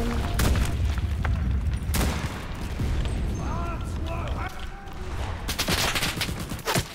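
Enlisted, a war video game: repeated booming bomb explosions and rattling bursts of gunfire fill the scene continuously, some sharp and close, others rumbling, with a player's voice speaking over the chaos.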